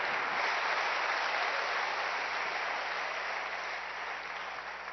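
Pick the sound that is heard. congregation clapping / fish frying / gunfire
congregation clapping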